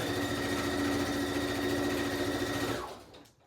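A sewing machine stitches over the side of a fabric pocket, a steady, close, high whirring hum with a fast mechanical rhythm running continuously before slowing and winding down at the end.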